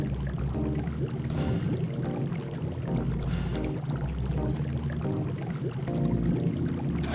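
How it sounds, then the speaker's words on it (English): Loud, steady bubbling water effect from the Duckman video game, running continuously throughout with a dense gurgling texture and no voices. "The bubbling."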